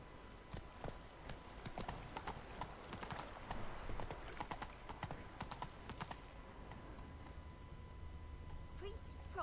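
The horse Roach in Witcher 3: Wild Hunt, hooves clip-clopping in a quick steady rhythm that fades toward the end, with a snort or whinny near the close and speech over it.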